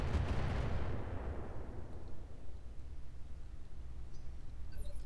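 Heavy weapons fire in the mech combat game Roguetech: a big booming blast at the start that rolls off into a long low rumble, followed by a steady dull roar with no talking.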